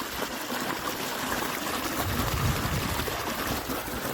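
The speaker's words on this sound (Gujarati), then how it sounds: "જો અહીં પાણી આવે છે. કેવો મસ્ત મજાનો અવાજ આવે છે પાણીનો." Irrigation water rushes steadily into a channel on a farm field. It is a continuous, close, even burbling flow with no pauses and no voices.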